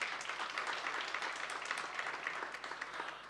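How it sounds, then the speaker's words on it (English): An audience at a labour law seminar gala dinner gives a round of applause, steady crowd clapping of moderate loudness that continues evenly for a few seconds. "Once again, another round of applause"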